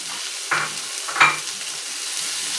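Garlic, onion and green chili frying in a pan for a rustic jackfruit seed bhorta, a quiet hiss broken by two brief louder stirring scrapes, with no one speaking.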